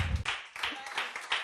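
Church congregation clapping in acclaim of the Lord as a preacher makes his entrance, a dense burst of handclaps in loose rhythm with pulsing swells, mixed with crowd voices.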